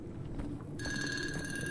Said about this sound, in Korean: 전화 왔어요.